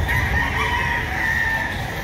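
Chickens, including pullets, at a hobby expo and pet convention, giving a dense, continuous din of clucking and crowing mixed with steady crowd hubbub.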